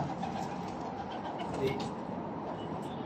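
Pigeons coo softly somewhere in Riyadh, their low calls blurred into a constant busy background rumble.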